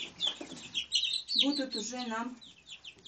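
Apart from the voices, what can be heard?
laying hen chicks clucking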